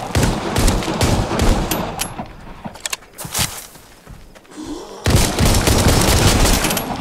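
Gunshots in the VR game Arizona Sunshine, rapid bursts of loud gunfire and clattering shots, close and dense, with a short quieter pause midway before the firing resumes.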